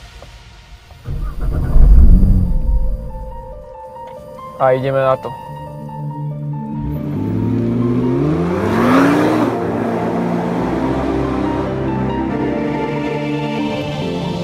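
A 2017 Nissan GT-R Black Edition fires up after a button press, its starter whine giving way to a deep idle that rises into a loud, sustained rev, with someone speaking briefly beforehand.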